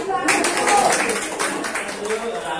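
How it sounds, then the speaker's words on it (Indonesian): Classroom of students clapping their hands together in a burst of quick, overlapping claps, with voices talking over and around it. "kita tepuk tangan dulu, clap your hand"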